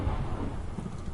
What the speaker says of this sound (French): il y a encore des éclairs